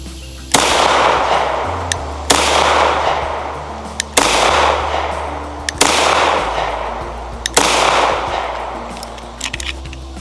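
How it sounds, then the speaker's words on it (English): Five loud, close 9mm shots from a Kimber KDS9c pistol, spaced roughly two seconds apart, each followed by a long ringing decay over a steady low background rumble. "It's 9mm anyway, so either way, still felt good when shooting."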